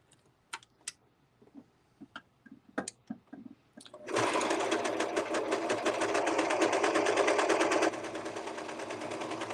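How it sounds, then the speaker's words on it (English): A serger sewing machine stitches very stretchy knit fabric with decorative thread, starting after a few seconds of scattered handling clicks and then running as a loud, steady, rapid mechanical whir that continues without a pause. "And then we just start sewing."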